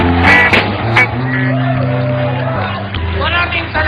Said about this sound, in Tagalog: Maraming salamat sa inyong sigawan.